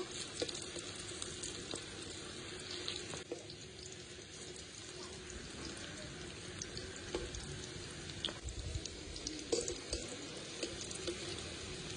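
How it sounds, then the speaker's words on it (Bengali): Fish roe fritters fry in hot oil, giving a steady, close, dense sizzle with faint crackles that runs unbroken throughout, with no talking. "তেলটা গরম হয়ে গেছে, এবার এক এক করে বড়া শেপ করে ভেজে নেব।"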